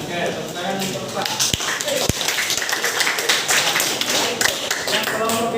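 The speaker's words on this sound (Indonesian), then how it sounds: "tepuk tangan untuk Pak." Applause in a classroom or teacher training session, a loose scatter of claps and taps with a few sharp close hits, mixed with voices talking over it.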